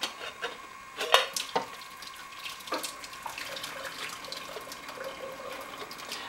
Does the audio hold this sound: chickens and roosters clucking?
no